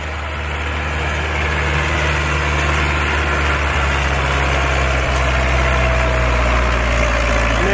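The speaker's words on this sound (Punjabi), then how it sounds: "16 ਫੁੱਟ ਦੀ ਟਰਾਲੀ ਅਤੇ 55 ਹਾਰਸ ਪਾਵਰ ਬੇਲਾਰੂਸ ਟਰੈਕਟਰ" A 55 hp Belarus tractor pulling a fully loaded 16-foot trolley, its engine droning steady, loud and close with a low heavy rumble that holds throughout.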